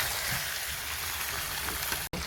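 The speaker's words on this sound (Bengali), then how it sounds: "এবার সুন্দরভাবে খুন্তি দিয়ে নেড়ে নিতে হবে।" Meat and cut potatoes are stirred with a metal spatula in a hot pan, giving a steady, dense sizzle and crackle with faint scraping, close and continuous, broken by one brief dropout near the end.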